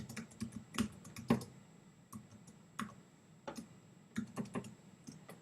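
Someone types a message on a computer keyboard, with quick clusters of soft key clicks separated by brief pauses, close and fairly quiet.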